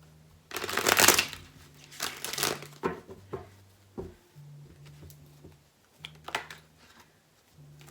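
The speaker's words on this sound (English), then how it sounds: "I'm just going to shuffle till it feels right." A tarot deck is shuffled up close in several separate bursts of riffling and sliding cards, with quiet pauses and a low hum between them.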